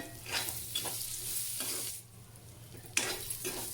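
Crushed garlic fries in a pan for a cluster bean and fresh coconut curry, a soft sizzle broken by rhythmic stirring swishes and a light scrape of the utensil, fairly faint and close.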